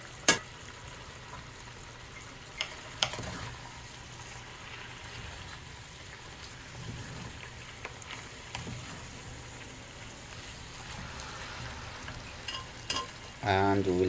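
Shredded beef for Yemeni fahsa fries in a pan with a steady, quiet sizzle. A few sharp clinks and stirring scrapes break through it, and there is no talk.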